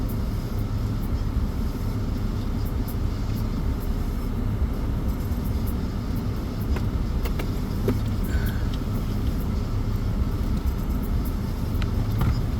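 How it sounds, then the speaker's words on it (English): A car passes on a road amid steady low traffic rumble and outdoor noise, no talk, over a dozen seconds. "Is this car going to come through?"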